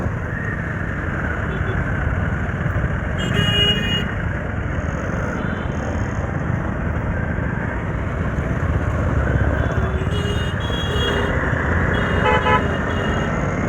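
Busy street traffic in Nashik heard from a riding motorcycle, with steady engine and road rumble throughout and a few short car horn toots cutting through, most clearly around a third of the way in and again near the end.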